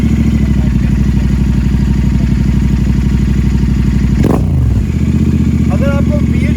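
Royal Enfield Continental GT 650 or Interceptor twin-cylinder engine with an aftermarket exhaust, idling loud and steady with a deep throbbing rumble, then a brief blip of revving before settling again, close by and heard alone.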